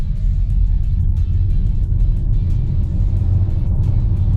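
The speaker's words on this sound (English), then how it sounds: "I'll go into the sport mode and the acceleration coming right away." A 2023 Hyundai Ioniq 5 electric car pulls hard in sport mode on an empty road, giving a loud, steady low drone of road and drivetrain noise from inside the cabin with a faint rising whine.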